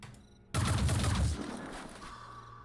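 A burst of assault rifle fire in the squad-tactics game Phoenix Point: a dense, loud volley of rapid shots that cuts in abruptly, holds for under a second, then trails off into a ringing tail with no talk over it.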